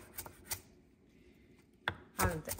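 Vegetables being chopped with a knife on a board while breakfast is made, a few crisp close knocks spaced irregularly, with a quiet room between strikes.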